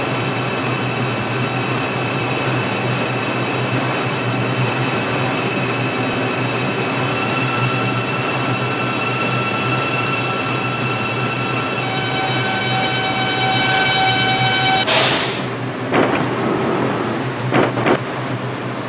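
New York subway line 6 local train to Pelham Bay Park in a mobile simulator game, a steady rumbling ride with whining motor tones, then a brief hiss and a few clunks near the end.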